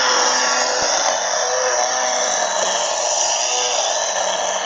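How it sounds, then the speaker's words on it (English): A Milwaukee M18 Fuel cordless chainsaw cuts through thick wood, a loud, close, continuous buzzing roar with an even, strained tone and no pauses or talking. "This wouldn't be an easy cut for my real chainsaw either."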